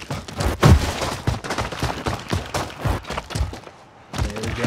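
Rapid bursts of gunfire in Call of Duty Warzone, loud irregular volleys of shots and thuds that pause briefly near the end, with no talk over them.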